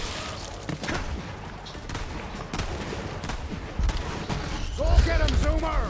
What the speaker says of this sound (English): I see a floating gun shooting people.